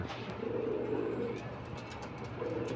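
Pigeons coo in low, rolling calls, two clear bursts close by, over a steady background hum with faint chirps.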